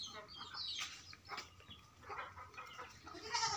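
A goat bleats on a farm at evening among ducks and chickens, a few short calls mixed with soft clucking and fowl chatter in the background, no talk.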